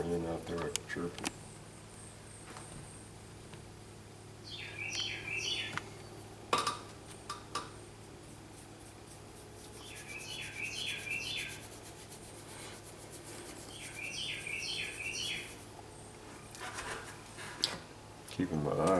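Birds chirp outdoors during rain in three faint, brief bursts of quick twittering spread across the stretch, set against soft scrubbing and rubbing noises nearby.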